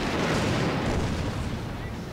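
Naval cannons fire a broadside in Total War Shogun 2, a dense continuous roar of overlapping booms and rumbling blasts with no gaps, loud throughout and fading slightly toward the end.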